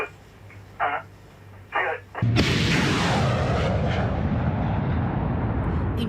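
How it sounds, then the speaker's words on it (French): A military rocket launcher loaded with live rockets fires during an army test, a sudden heavy blast followed by a long, loud roaring rumble of the launch that slowly fades, with brief radio-like voice fragments just before. "Le lance-roquette est prêt, chargé de vraies munitions"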